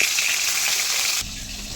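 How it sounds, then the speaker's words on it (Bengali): A fish head frying in oil sizzles in a pan, a close, steady hiss that drops slightly in tone near the end. "মাছের মাথাটা ভাজা বসিয়ে দিয়েছি"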